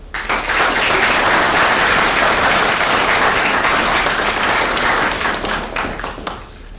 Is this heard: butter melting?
no